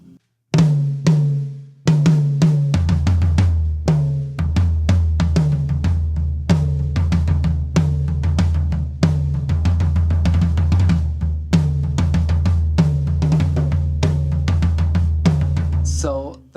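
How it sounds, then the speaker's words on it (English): Tom drums on a drum kit are struck in quick, continuous patterns of close, booming hits with resonant decay, played loudly for over fifteen seconds with no talking. "And this is what the toms sound like."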